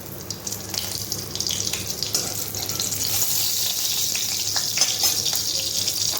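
Whole cumin seeds and chilli crackle in hot oil left over from frying potatoes for a cauliflower curry, making a dense, close sizzle that grows fuller over the seconds, broken by occasional stirring scrapes.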